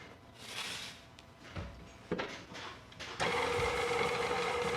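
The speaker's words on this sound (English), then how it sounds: "I'm going to get that started on the mixer to get it creamed" An electric stand mixer creaming butter and 3 cups of sugar for a bundt cake, preceded by faint kitchen clatter and handling, then the motor whirring up to a steady hum.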